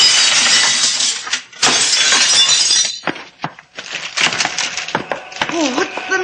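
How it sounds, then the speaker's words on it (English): Glass shatters loudly in a radio drama effect, with two big crashes followed by scattered tinkling shards and a few sharp knocks as debris settles, close and alone with no talk. "Watch out for the flying glass"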